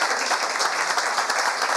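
A church congregation claps and applauds steadily, a dense, even wash of hand claps throughout.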